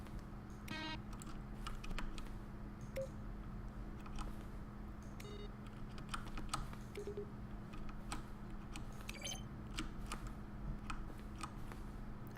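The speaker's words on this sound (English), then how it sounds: "A selection of the sounds used throughout the game when buttons are pressed. Each sound is a mix of a keyboard stroke and a synthesized tone." Button-press sounds from The Stanley Parable video game, each a keyboard stroke mixed with a synthesized tone, come as a series of short, sharp clicks and beeps at irregular intervals over a steady low hum.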